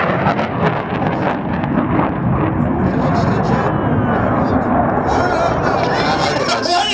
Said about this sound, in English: we're going to get this F-35 out of the way